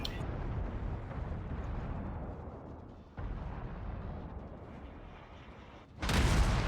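A Tier 3 Russian cruiser, the Bogatyr, fires a salvo in World of Warships: rumbling naval gunfire and booming blasts under steady battle noise, ending in a sharp, loud burst near the close.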